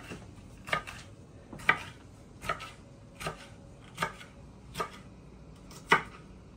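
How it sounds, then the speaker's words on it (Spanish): Chili peppers sliced into rings with a knife on a cutting board, a series of about seven crisp, evenly spaced chops, close and clear over a quiet kitchen background. "Miren, los chiles yo así los voy a poner en rueditas."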